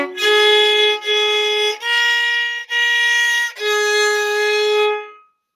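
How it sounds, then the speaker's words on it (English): Violin played with a bow, arco: five sustained bowed notes, each a few seconds long with brief breaks between strokes, close and clear, with no voices. "And bowing or playing arco sounds like this."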